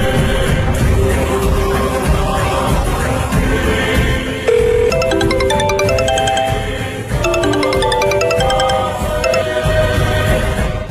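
A telephone ringtone sounds during a Telugu TV drama scene: a bright, repeating electronic melody rises over a steady bed of background music, with no one speaking.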